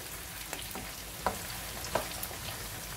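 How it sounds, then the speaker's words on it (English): Steady frying hiss from onions in a pan, low and continuous, with a couple of soft clicks or stirs breaking through. "it's frying."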